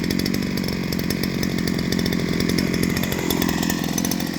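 A petrol brush cutter starts warm and runs, its small two-stroke engine buzzing loud and close with a rapid pulsing beat and a slight dip in pitch partway through.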